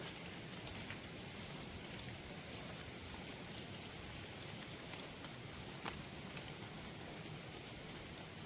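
Steady drizzling rain in the Sahyadri jungle hisses evenly and continuously, soft and close, with a few faint drops and no voices.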